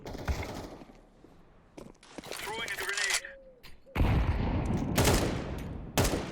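Counter-Strike 2 gameplay with bursts of rapid gunfire and sharp cracks in clusters, interrupted by a short lull with a tonal sound, while a player talks over the action.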